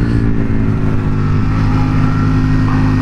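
A 2019 Suzuki SV650X motorcycle pulls hard in second gear, its engine a loud, close, steady harmonic roar that climbs slightly in pitch over a few seconds.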